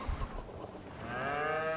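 Cattle in the video game Farming Simulator 25 give a single drawn-out moo that swells in the second half, heard up close over a faint background with no talking.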